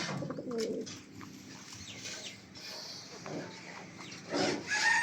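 Fancy pigeons coo at a pigeon shop, with soft low throaty cooing throughout plus a few higher chirps and rustles close by, and no talk.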